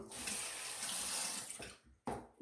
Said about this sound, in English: you can run your hand under water